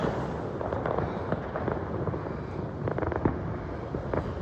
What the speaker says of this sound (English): Biggest fireworks ever.